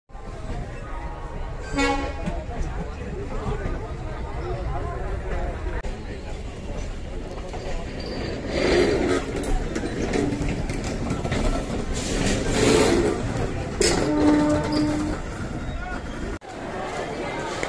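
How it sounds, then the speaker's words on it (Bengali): A local train pulls slowly out of Howrah station. Its steady rolling rumble runs throughout, with a few horn toots and the babble of passengers in the background. "আমাদের ট্রেন ছেড়ে দিয়েছে, ধীরে ধীরে এগিয়ে চলেছে, হাওড়া স্টেশন ছেড়ে বেরোচ্ছে"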